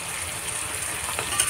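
Mutton korma cooking in a pan, spiced with nutmeg and cardamom powder: a steady, close sizzle with soft crackles and a faint scrape near the end, with no voices.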